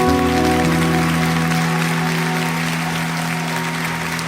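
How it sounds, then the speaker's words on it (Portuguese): Audience applause at a packed evangelical church gathering: a broad, loud wash of many hands clapping, sustained throughout, with a steady musical drone of sustained tones from the stage underneath. "Um aplauso ao povo do celeiro."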